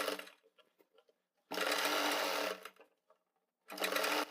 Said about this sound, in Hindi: किनारे पर सिलाई लगाते आएंगे